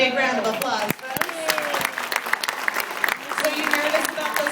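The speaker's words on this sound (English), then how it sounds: "Let's give him a big round of applause" An audience at an animal show at Grant's Farm in St. Louis claps steadily, a moderately loud patter of applause with individual sharp claps and voices talking over it.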